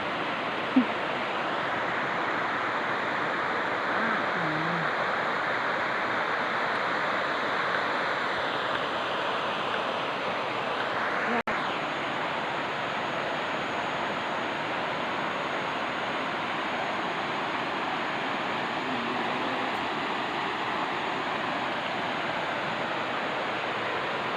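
A waterfall rushes during rising floodwater, a steady broadband roar that stays unbroken and fairly loud throughout, with no talking.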